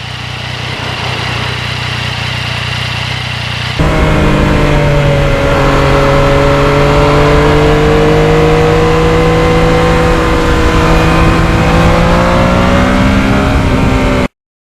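A motorcycle cruises along back roads with forks set low, its engine droning loud and steady close by, the pitch climbing and easing through gear changes after a brief rougher stretch at the start.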